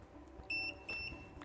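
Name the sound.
beeping of a mug sublimation heat press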